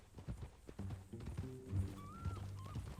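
A horse in the video game Red Dead Redemption 2 clip-clops along at close range, hooves thudding in an uneven rhythm, with a whinny and a faint whistle-like tone.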